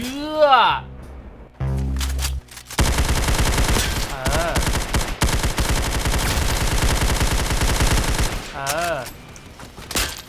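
A Tommy gun fires in a Roblox CS:GO-style shooter, with long, rapid automatic bursts of loud, dense cracks that run almost continuously. Excited voices talk over the shooting.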